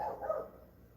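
Dogs bark in one brief outdoor yelp that fades quickly into quiet background noise, at a moderate distance with no talk.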